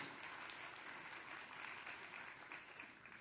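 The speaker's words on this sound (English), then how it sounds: "Y'all can clap, it's okay." A conference audience at a Python developer gathering claps briefly. The applause is soft and distant, and it holds an even, continuous patter throughout.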